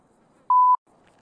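A single short electronic beep rings out in the GTA RP video game, a clean steady tone lasting a quarter second against near silence.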